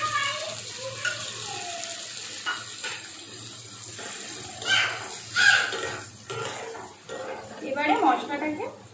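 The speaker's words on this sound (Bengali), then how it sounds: "মশলাটাকে চালের সাথে আলুর সাথে একটু ভালো করে কষাতে হবে" Spice paste being worked into fried rice and potatoes in a pan, giving a soft scraping stir and light sizzle under a low steady hum, with a few clinks of the spoon against the pan.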